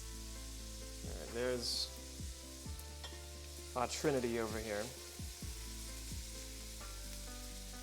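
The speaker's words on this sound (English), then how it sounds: "Is the mic picking up that wonderful sizzle?" Garlic sizzles while frying in a pot, a steady hiss running under a person speaking.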